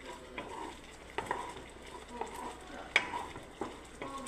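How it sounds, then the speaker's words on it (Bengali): Semolina halwa bubbles and sizzles in a pan as it is stirred, with soft scraping and a few sharp spoon-on-pan clinks, quiet and close. "দেখুন সুজিটা ফুটছে, হালুয়াটা"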